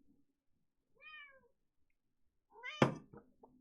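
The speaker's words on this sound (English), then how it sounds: "my cat Munchkin says hello, as he's wont to do" A house cat named Munchkin meows twice nearby, a rising-falling mew followed by a louder drawn-out call that starts with a sharp knock, in an otherwise quiet room.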